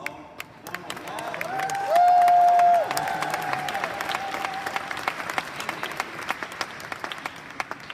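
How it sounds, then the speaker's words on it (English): Enthusiastic crowd applause with cheers and a brief loud whistle at a KaratBars launch event in Amsterdam in 2019. The clapping builds and holds steady. "So big applause."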